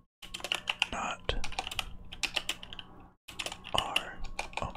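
Someone types quickly on a computer keyboard resting in their lap, a dense, close stream of soft key clicks in bursts with one brief pause, faint and intimate.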